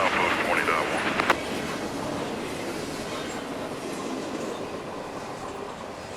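A Norfolk Southern freight train rolls past at a steady roar in Walton and Erlanger, Kentucky, with faint clatter and a brief sharp squeal near the start, sustained broadband rumble throughout.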